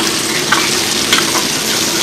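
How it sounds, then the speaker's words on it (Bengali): Morla fish frying in a pan in a hotel kitchen, a loud, dense, continuous close sizzle with a few brief crackling bursts. "এই হচ্ছে আমাদের এখন মাছ ভাজা চলছে"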